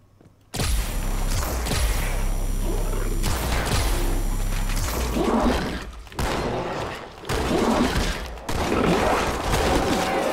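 Bursts of SMG gunfire in Halo 2 come in several loud, rapid volleys separated by short pauses, mixed with thuds and crashing combat effects.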